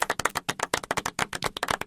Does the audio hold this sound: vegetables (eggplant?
no